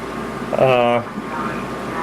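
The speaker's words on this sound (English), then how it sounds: "even with the air conditioner on, and you can probably hear it in the background" A room air conditioner runs as a steady low hum and hiss through a hot indoor home flight simulator space, with a voice briefly rising over it.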